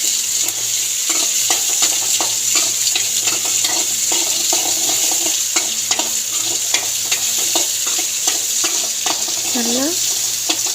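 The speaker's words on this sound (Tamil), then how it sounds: "அதையும் அதோடு சேர்ந்து நல்லா வதக்கிக்கோங்க" Onions sautéing in a pan for capsicum chutney give a steady, close sizzle with repeated stirring scrapes and clicks throughout, plus a brief faint voice near the end.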